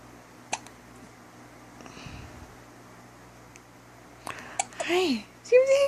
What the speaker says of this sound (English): Do you have the hiccups, baby boo?